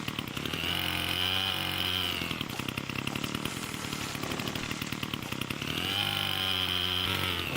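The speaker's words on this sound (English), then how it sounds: "I love this chainsaw. It is such a brilliant asset." A chainsaw in the Farmer's Life video game cuts steadily and loudly, its engine snarling with strong harmonic layers that ease off briefly midway before revving back up to full, close and continuous with no talking.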